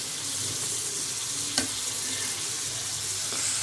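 Chopped tomatoes going into a pan of frying fish curry, a dense hiss of sizzling oil close by with a brief clatter as they drop in, no voices.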